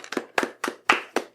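Five crisp, evenly spaced hand claps, close and fairly loud, each a sharp snap with a quick decay, alone without talk.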